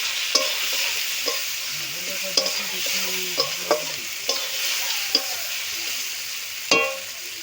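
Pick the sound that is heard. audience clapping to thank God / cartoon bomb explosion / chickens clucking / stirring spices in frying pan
stirring spices in frying pan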